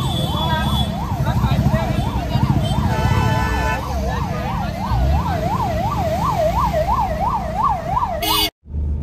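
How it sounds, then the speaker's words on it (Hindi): An ambulance siren wails at an accident scene on a city road in Ahmedabad, a loud, rapidly rising and falling tone over engine noise and traffic, with people talking nearby before the sound cuts off abruptly. "एम्बुलेंस भी आ गई।"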